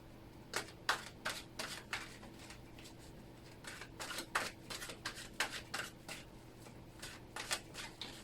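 Repeated crisp riffling bursts of tarot cards being shuffled, close by, in quick irregular clusters with short pauses between them.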